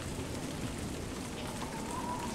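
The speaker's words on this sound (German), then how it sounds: "Andauernde Regenfälle sorgen für Überflutung." Steady rain ambience in the Die Gilde 3 video game, a continuous even hiss of falling rain with no break, moderately loud and unaccompanied by talk.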